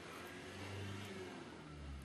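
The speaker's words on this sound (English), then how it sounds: "Ignore passing car noise." A car passes outside with a steady low engine rumble and whir that swells and fades over about two seconds, heard in a quiet room with no one talking.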